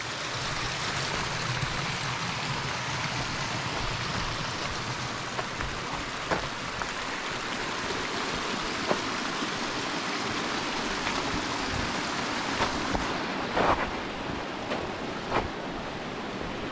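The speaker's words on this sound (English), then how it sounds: "just the force of all this water and stuff moving down" Rushing water of the Middle Fork Salmon river near Boundary Creek, a continuous broadband roar heard steadily throughout at moderate volume with no voices.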